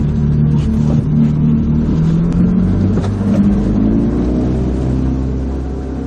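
A motorboat engine drones steadily and fairly loud on a sea outing off the Pomorye coast, with a low rumble that rises slightly mid-clip and eases toward the end. No voices are heard.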